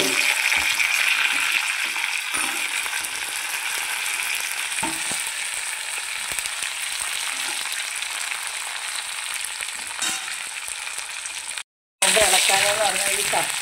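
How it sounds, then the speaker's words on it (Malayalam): Chili seeds and curry leaves sizzle and crackle steadily in a hot pan for a dried-mango pickle, a close, continuous frying hiss with occasional stirring scrapes and one brief cut near the end. "മുളകിൻ്റെ അരി പൊട്ടുന്നുണ്ട്"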